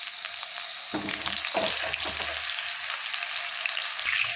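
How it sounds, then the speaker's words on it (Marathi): Potatoes frying in two to three ladles of oil for dum aloo, a loud continuous sizzle close up, with a few clinks and stirring sounds early on and no talk. "इकडे बटाटे फ्राय होतात"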